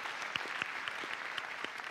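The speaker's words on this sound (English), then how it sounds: "Give yourselves a quick round of applause." Theatre audience applauding, a dense steady wash of many hands clapping close and loud, with a few sharper individual claps standing out and no talk over it.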